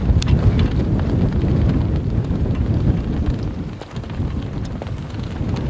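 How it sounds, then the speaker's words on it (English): Strong wind gusts roar across a village harbour at Arsuk, a steady broadband rush buffeting the microphone for the whole stretch, with a brief lull near the end. "It's very windy."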